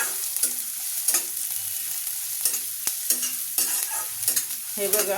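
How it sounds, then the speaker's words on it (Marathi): Onion sautéing in a pan, with a gentle continuous sizzle and rhythmic scraping stirs; a voice speaks briefly. "अशा पद्धतीत हा कांदा पण परतवून घ्यायचा आहे"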